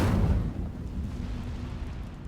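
Incendio fire spell cast in Hogwarts Legacy, a heavy whooshing burst of flame up front that rolls off into a low, rumbling tail, alone without talk.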